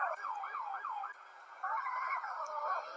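A police car siren in a video game wails in a rapid up-and-down yelp, then shifts to a steadier warbling tone, loud and alone for a few seconds.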